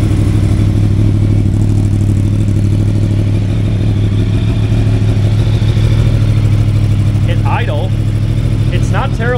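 A 2023 Yamaha MT-10 fitted with a Leo Vince decat exhaust runs steadily near the microphone with a deep, continuous engine drone throughout, while someone talks over it.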